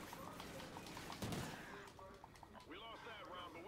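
Video game gunfire pops in quick bursts during a shooter match, fairly faint and mixed under excited voices talking.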